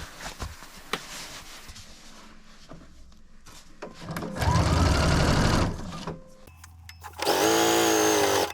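A sewing machine stitches the shoulder seams of a jacket in two loud, steady runs, each lasting about a second and a half, with quieter handling and clatter between them and no talk.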